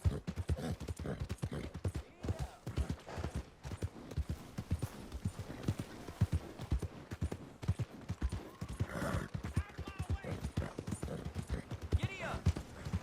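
Horse hooves gallop in the video game Red Dead Redemption 2, a quick, rhythmic clip-clop that runs close and steady, with occasional whinnies, voices and other game sounds mixed in.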